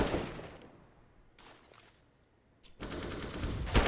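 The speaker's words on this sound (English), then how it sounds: "cello has his gun out as Fallen deploys the support grenade." Rapid gunfire from a professional Counter-Strike match comes in several clipped bursts: one at the start, a fainter one midway and a louder sustained volley at the end.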